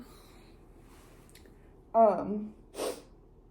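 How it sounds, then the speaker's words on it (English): A single close sneeze bursts out of near silence, followed by a short breathy sniff. "Sorry, I sneezed a little bit."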